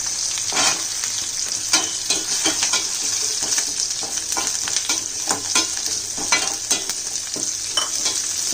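Curry leaves and coconut fry in a pan for a Tamil fish curry, sizzling loudly and close. Repeated scraping stirs and bright crackles punctuate the steady hiss, with no voices.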